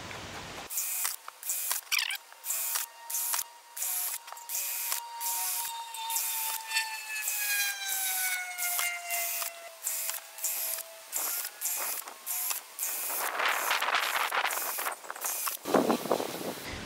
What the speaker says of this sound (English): I'm gonna do a row of holes around the top with my smaller spade bit.